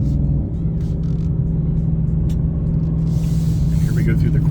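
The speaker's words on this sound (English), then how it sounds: "It's just that nice V8 motor." A 2024 Ford Mustang GT's V8 engine with a new exhaust drones steadily in a deep, loud rumble from inside the moving car, with a voice talking over it.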